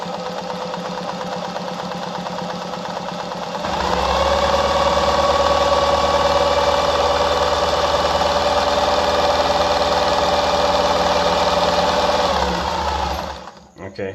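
A Pfaff 260 sewing machine stitches a zigzag at stitch length 1, a steady close mechanical whir running for about eight seconds after a quieter lead-in, then winding down.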